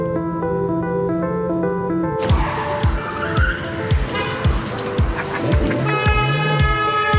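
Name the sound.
car doing handbrake turns, tires squealing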